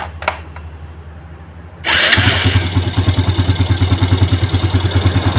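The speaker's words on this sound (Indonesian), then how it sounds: "Ini kita tes gunakan untuk starter, apakah kuat atau tidak ya." Yamaha Jupiter Z1 motorcycle started with its electric starter, powered by a borrowed Vario battery: a few faint clicks, then the engine catches loudly and settles into a close, rapid, pulsing idle.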